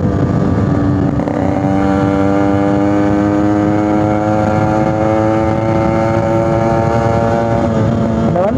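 A restored Yamaha RX100 two-stroke motorcycle holds a loud, steady engine drone at over 85 km/h, its pitch climbing through the run with wind rush underneath.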